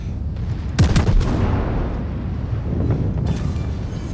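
Heavy naval gunfire and shell impacts boom in the World of Warships game, with a sharp blast near the start followed by rumbling hits and lower thuds, loud against steady background noise.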